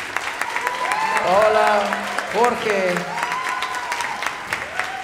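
Audience applause for the musicians at a concert, dense clapping and cheers running throughout while someone speaks over it and voices call out.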